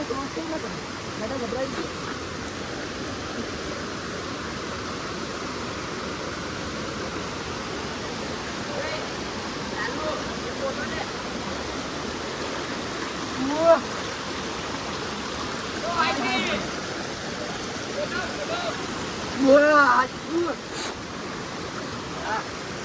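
A constant rushing roar of Dugarwadi waterfall near Trimbakeshwar, Nashik fills the scene, with faint voices and occasional shouts breaking through the steady noise.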